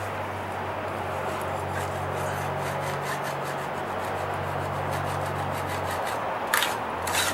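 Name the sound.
scraping paint remover off a wooden deck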